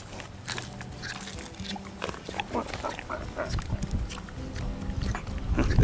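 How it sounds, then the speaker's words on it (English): Pigs at a ranch gathering root and grunt right up against the camera, with close snuffling, chewing and low grunts building louder toward the end. "These pigs are just camera hogs."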